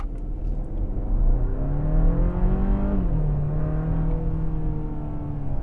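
A 2021 Kia Sorento X-Line with a 2.5-litre turbocharged four-cylinder engine accelerates hard from a standstill, its engine note climbing through a gear, dipping at the shift, then rising again, close and loud with no talking.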